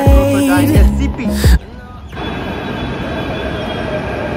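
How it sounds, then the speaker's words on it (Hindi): Delhi Metro train ride, a loud tonal whine and squeal at first, then a sharp drop to the steady rumble of the carriage rolling along the track. "मेट्रो वापस आ गए मेट्रो में"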